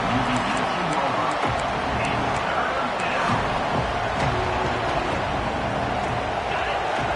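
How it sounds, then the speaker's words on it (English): Football stadium crowd at a college game between Miami and Auburn, a dense, steady roar of cheering and noise building as the defense sets up in the red zone, loud and continuous throughout. "And the crowd coming to life here, trying to help this defense down in the red zone."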